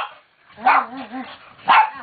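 A nearby dog gives two sharp barks about a second apart, with a wavering whine in between.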